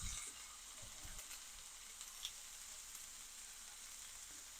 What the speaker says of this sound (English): And now I'm just going to add in some cumin seed.